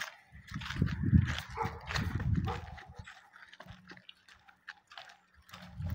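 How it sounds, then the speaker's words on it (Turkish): A dog pants close by in quick, breathy bursts with some shuffling movement. It grows quieter and more sporadic toward the end. "Köpek var ileride, çok güzel köpek."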